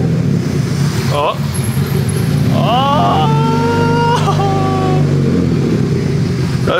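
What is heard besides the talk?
Nissan S13 car engine cranking and starting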